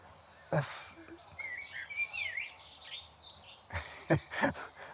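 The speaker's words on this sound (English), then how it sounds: "if I can just talk over the robins" Bright, warbling trills of European robins singing in an English garden in May rise and fall at moderate distance, with a couple of brief nearby voice bursts at the start and end.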